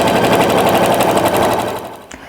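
A sewing machine stitches a quilt seam in a rapid, even mechanical chatter, loud and close, running steadily before slowing and stopping near the end.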